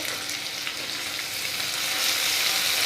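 Beans and potatoes fry in a pan with a steady, dense sizzle that stays close and fairly loud throughout and swells slightly toward the end.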